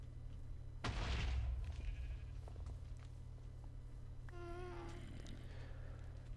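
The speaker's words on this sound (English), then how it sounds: "Sheep, get off." A sheep in Minecraft gives a single clear bleat near the end, over a steady low in-game hum, after an earlier burst of louder game noise.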